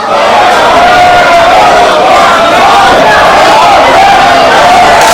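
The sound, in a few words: wrestling crowd cheering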